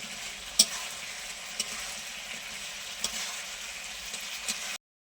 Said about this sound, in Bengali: ভেজে রাখা মাংসটা দিয়ে দেবো, দিয়ে নাড়াচাড়া করে নেব।